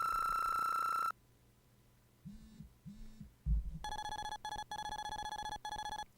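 A mobile phone rings with bright, repeated electronic tones that cut in loudly, stop, then return beside a pulsing low game tone.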